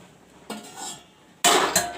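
A lid goes onto a metal pot of simmering mutton curry with two sharp clanks, a softer scrape first and then a loud metallic clatter near the end, close and unaccompanied by talk.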